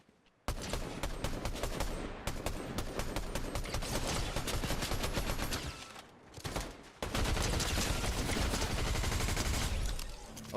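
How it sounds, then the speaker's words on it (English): Rapid, dense automatic gunfire in Fortnite, close and loud, pouring out in sustained bursts with a brief pause partway through before the firing resumes. "Who's shooting me? Who thinks they can shoot at me?"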